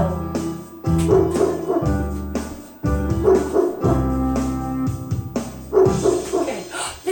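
Several dogs bark in repeated loud bursts, close and echoing in an indoor space, with yips and short pauses between volleys.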